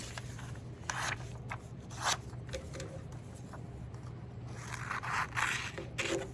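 Scissors snip through a small folded paper snowflake, giving soft intermittent crunchy cuts and papery rustling against a faint steady background hum, quiet and close.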